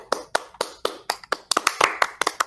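Hands clapping alone at close range, a steady run of sharp claps that speeds up and grows slightly denser toward the end, with no talking.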